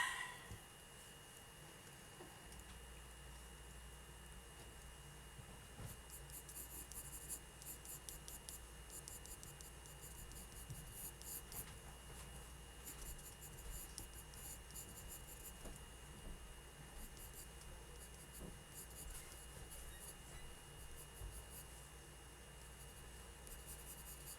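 A pencil draws on paper for an Inktober illustration, giving faint, quiet scratching strokes that come in bursts over a low steady background hum.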